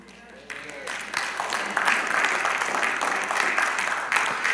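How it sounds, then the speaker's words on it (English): A church congregation bursts into applause during a sermon, with the clapping swelling from a quiet start into steady, full applause that continues to the end. "Don't just clap a little bit,"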